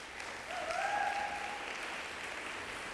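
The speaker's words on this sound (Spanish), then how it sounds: "Ahora sí, dan un aplauso a Él." A church congregation applauds together in steady, sustained clapping that sounds distant and soft, a smooth wash of many hands under a faint tonal hum.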